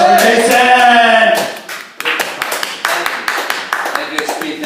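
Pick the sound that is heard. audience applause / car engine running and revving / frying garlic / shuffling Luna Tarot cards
audience applause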